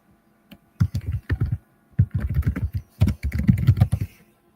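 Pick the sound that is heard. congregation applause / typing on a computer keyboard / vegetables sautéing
typing on a computer keyboard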